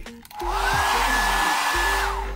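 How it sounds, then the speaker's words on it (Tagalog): A hair dryer in a cruise ship balcony cabin whirs on after a brief click, holding a loud, steady motor whine with airy rush for a couple of seconds. "Silang hair dryer."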